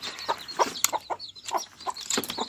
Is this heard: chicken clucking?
yes